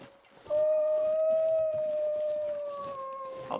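A wolf howls in The Long Dark, a single long steady tone that holds for about three seconds and slowly falls in pitch, clear and moderately loud over faint background noise.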